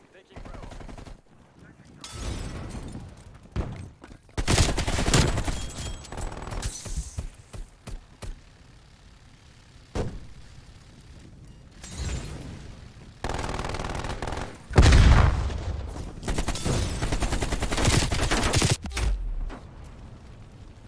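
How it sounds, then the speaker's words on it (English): Video game gunfire with bullets striking a container, bursts of rapid automatic shots alternating with pauses, loud and close, some bursts long and sustained. "Oh, my bullets were hitting the container."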